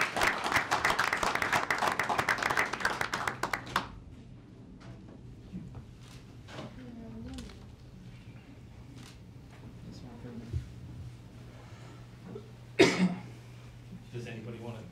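A council chamber audience gives a short burst of applause at a city mayor and council meeting, clapping for about four seconds and then dropping to quiet room tone with scattered coughs and faint voices.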